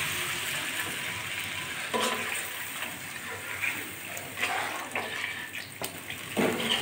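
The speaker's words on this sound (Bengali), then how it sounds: "এবার জল দিয়ে দিচ্ছি।" Water pours into a hot pan of spiced tilapia fish curry with turmeric, giving a steady hissing, splashing rush that runs throughout with faint sizzling beneath.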